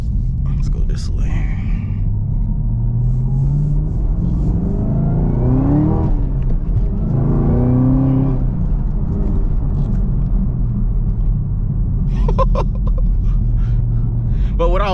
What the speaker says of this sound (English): It's gonna be just a video of just engine sound and me talking a little bit.